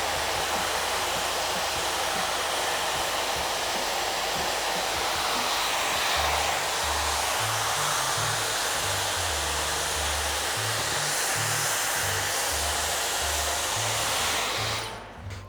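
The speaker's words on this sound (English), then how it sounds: "now that we've gone through and diffused with the Dyson diffuser" A Dyson hair dryer fitted with a diffuser blows a steady, loud rushing roar while drying hair, running without a break for about fifteen seconds before it cuts off at the end.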